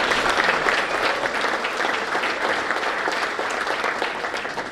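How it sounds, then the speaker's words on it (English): A meeting audience gives a round of applause: thick, continuous clapping from a sizable crowd, steady and fairly close, slowly easing toward the end, with no speech. "Let's give them a round of applause."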